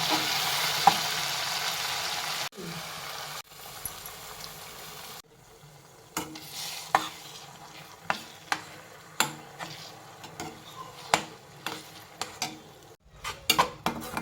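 Food fries in a pan with a low sizzle, broken by repeated sharp scrapes and clinks of a spoon stirring against the metal, roughly one per second in the latter half.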